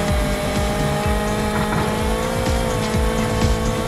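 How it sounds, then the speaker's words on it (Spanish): A yellow sports car in a stunt racing video game drives flat out, its engine whining loudly and steadily while repeated rising gear-shift sweeps and tire squeals cut through. "a toda velocidad a conducir nuestro auto y por supuesto a ponerlo a prueba"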